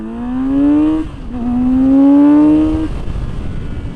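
A 2020 Kawasaki Z900 RS motorcycle pulls hard in first gear, its engine note climbing loud and close in two rising revs with a brief dip between, then backing off.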